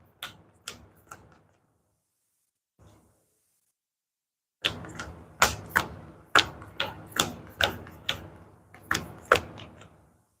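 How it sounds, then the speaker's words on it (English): A sequence of crisp, sharp snaps and riffles like a deck of cards being shuffled, with a few isolated taps first, then a rapid run of close clicks. "I'm going to shuffle my deck and draw my 5 cards."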